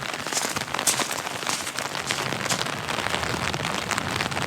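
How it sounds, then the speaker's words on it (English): Steady rain falls hard on a soggy day, giving a dense, continuous hiss and patter of drops on surfaces that stays loud and even throughout, with no voices. "Rain, rain, rain, rain."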